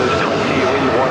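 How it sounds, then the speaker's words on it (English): Qantas jet airliner on a long takeoff roll at Sydney Airport in wet weather, a steady broadband engine roar that holds loud and even for the whole second, with a voice talking over it. "It's a long takeoff roll there from Singapore."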